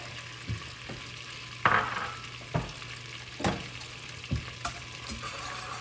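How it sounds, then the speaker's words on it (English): Garlic sizzles in butter in a pan at the start of a roux, with a steady frying hiss. Several sharp stirring scrapes and clicks land at irregular intervals and stand out clearly. No one speaks. "We're gonna add in the garlic real quick."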